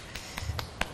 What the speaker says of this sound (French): J'applaudis parce qu'on n'a pas encore de public.